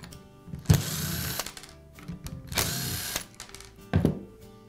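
Three short, close bursts of power-tool whirring as the retaining strap is removed from the motor housing of a DeWalt cordless drill, with quiet pauses and handling clicks between bursts and no talking.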